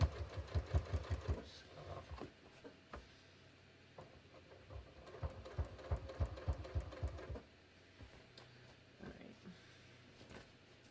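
A sewing machine stitches through both seam allowances and the leg of a pair of shorts, running in quick rhythmic bursts of rapid needle clatter with short pauses, close and fairly quiet.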